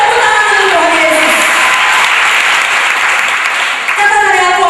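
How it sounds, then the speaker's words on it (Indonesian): A large church congregation at a Sunday worship service claps loudly and steadily. The dense crowd applause carries on without a break, with a faint hum of voices underneath. "Berilah tepuk tangan untuk Tuhan Yesus."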